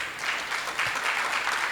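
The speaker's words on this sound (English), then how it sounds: "May we please have a round of applause as we welcome our panelists." Audience at a real estate forum applauding as panelists are welcomed, a dense, steady patter of many hands clapping together, fairly near and continuous throughout.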